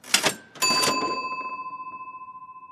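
A short intro jingle for a cleaning channel, with quick percussive hits followed by a ringing chime tone that decays slowly and pulses gently.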